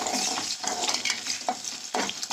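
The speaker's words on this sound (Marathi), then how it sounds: "आपण थोडासा अद्रक लसूण पेस्ट टाकायचा।" Ginger garlic paste sizzling and frying in a pan with browned onions and green chillies, a continuous close crackle with stirring scrapes and occasional louder bursts.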